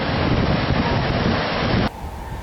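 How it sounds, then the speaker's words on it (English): Strong gusting wind roars into the microphone over crashing waves during a cyclone with flooding, loud and continuous before easing into a lower rushing surf. "The winds reached a high of 175 kilometres and are still gusting strongly."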